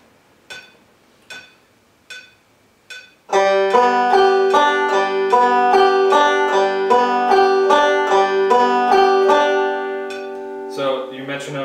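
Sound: metronome clicking with banjo played on the offbeats

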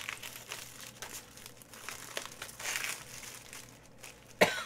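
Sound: taking off gloves

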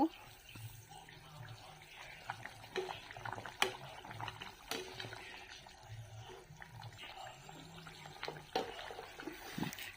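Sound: water poured into pan of frying potatoes

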